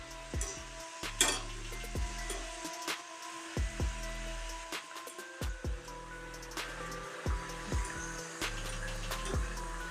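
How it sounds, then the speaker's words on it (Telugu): Chegodi, crunchy rice-flour and chana dal rings, fry in hot oil with a constant close sizzle, punctuated by sharp scraping clinks as a slotted spoon turns them over and over. "చెగోడీలు అటు ఇటు తిప్పుతూ వేయించుకోవాలి."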